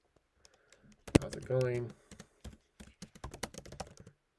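Typing on a computer keyboard produces a scattered run of light clicks in the second half, following a brief greeting spoken in the clip.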